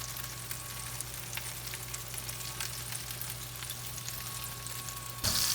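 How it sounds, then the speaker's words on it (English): Bacon sizzles and crackles steadily in a pan, a soft, continuous frying hiss with scattered pops, ending with a brief louder burst. "hear the sizzle? See the sizzle? There's some bacon going on here."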